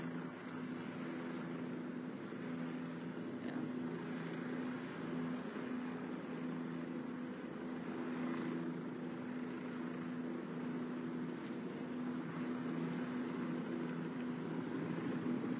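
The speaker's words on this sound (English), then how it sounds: "Got the helicopter flying over the area too." Helicopter flying over a Houston bayou during a body recovery, a faint, distant, steady engine drone held throughout with no talk.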